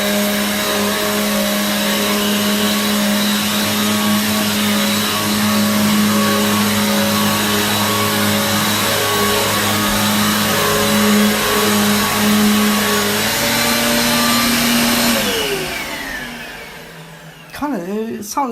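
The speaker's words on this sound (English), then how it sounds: "I'm going to turn on the Hoover." A Hoover vacuum cleaner drones loudly and steadily, its motor pitch shifting slightly, then winds down and stops near the end with a few clunks.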